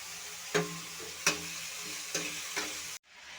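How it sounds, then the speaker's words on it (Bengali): Vegetables and chopped greens sizzle in a hot pan with a steady hiss, broken by about four distinct scraping stirs before the sound cuts off abruptly near the end. "আর এখানে সবজিটা আমি একটু ভেজে নিচ্ছি"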